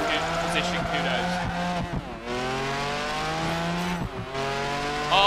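Mercedes-Benz CLK GTR Supersport racing in Project Gotham Racing 4, its engine revving through rising gear sweeps with sharp shifts and tire squeal, loud and close, while a voice talks over the driving.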